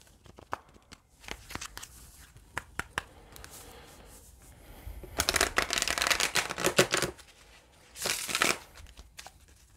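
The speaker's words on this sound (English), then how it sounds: "Let's pull some tarot cards and see what else comes out." Tarot cards being shuffled and pulled by hand, a series of crisp riffling and flicking bursts close by, with two louder shuffles toward the end and no voices.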